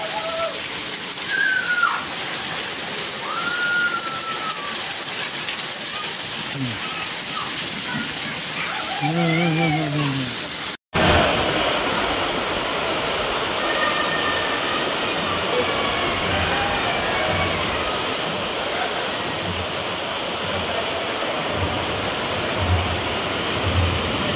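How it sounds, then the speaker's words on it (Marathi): Heavy monsoon rain pours down in Sangli, Maharashtra, a dense, loud, unbroken wash of noise that cuts out for a split second midway before resuming just as strong. "सांगलीत जोरदार पाऊस सुरू झालेला आहे।"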